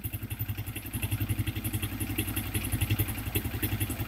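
A motorcycle engine just restarted and idling unevenly, putting out a steady, close, rapid chugging pulse of thuds with a light mechanical clatter over it.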